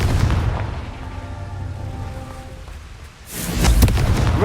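A booming blast from the Confringo explosion spell in Hogwarts Legacy rumbles low and loud, fading briefly before a second heavy burst erupts near the end, with no talking.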